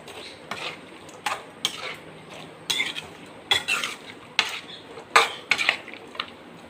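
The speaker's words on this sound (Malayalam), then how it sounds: "ഇനി നമുക്ക് അരിഞ്ഞു വെച്ചേക്കുന്ന ചാമ്പയ്ക്ക അങ്ങിട്ട് കൊടുക്കാം. നന്നായിട്ടൊന്ന് മിക്സാക്കി കൊടുക്കാം." Chopped rose apple being stirred for pickle in a pot, with a series of sharp metallic scrapes and clinks of a spoon against the vessel at an irregular rhythm, close and fairly quiet.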